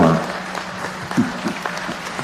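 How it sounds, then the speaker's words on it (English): Town meeting crowd applauding after a motion passes, a soft wash of clapping that fades over two seconds while a voice talks over it. "Yes, we can have some applause on that one."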